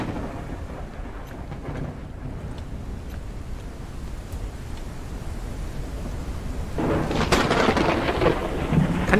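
Thunder rumbles and cracks over steady rain in the video game Forever Skies, a continuous storm wash building into a louder, nearer lightning strike near the end.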